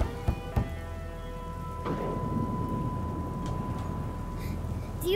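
Steady rain pours in a video game scene, a constant dense hiss with low rumbling thunder and a few sharp knocks near the start, filling the whole stretch without speech.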